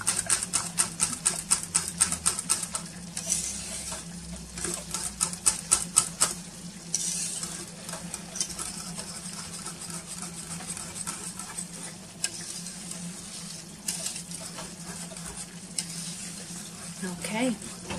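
Galaktoboureko mixture being stirred in a pot with a steady scraping swirl, busier clicking strokes at the start, then a softer continuous churn, under a low kitchen hum.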